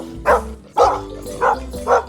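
A dog barks four times in an even rhythm, close and clear with nothing else over it.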